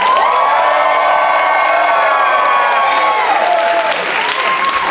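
A live comedy-show audience in New York cheers, whoops and applauds loudly and steadily for comedian Dan Wilbur, with high shouts riding over the dense clapping throughout.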